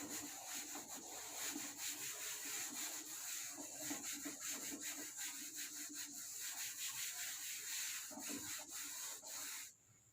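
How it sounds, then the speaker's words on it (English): A duster rubs calculation writing off a classroom board during a class 10 electricity lesson. It makes a close, steady scrubbing rasp in rapid back-and-forth strokes, heard alone, then stops abruptly near the end. "So I think I should rub this on the top."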